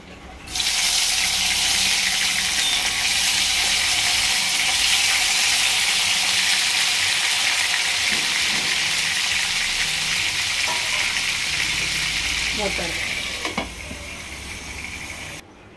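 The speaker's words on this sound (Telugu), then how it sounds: "ఆయిల్ వీటెక్కింది కదా, ఇలాగా వంకాయలు పెట్టేసుకొని వేసేసుకుందాం." Stuffed brinjals for gutti vankaya curry drop into hot oil and set off a loud, continuous sizzle that holds steady for about twelve seconds, with a few light knocks near the end before it fades.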